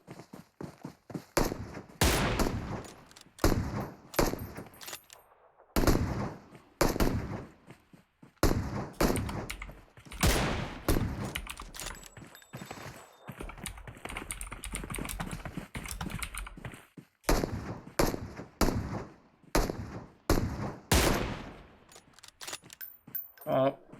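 SKS rifle fire in the mobile battle royale game PUBG Mobile comes as repeated sharp single shots and short bursts, close and loud, spread over a commentated esports league final with casters talking throughout.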